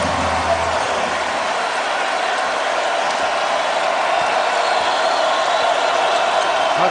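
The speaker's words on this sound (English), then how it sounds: "The crowd loves it." A packed arena crowd at a 2009 Arizona versus Arizona State college basketball game roars in a sustained, loud wash of cheering, with a commentator talking over it.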